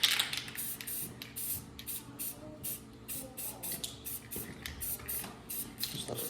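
Short bursts from a spray can lay paint onto a truck, each hiss lasting under a second and repeating in an irregular rhythm, close and fairly quiet, with faint clatter between them.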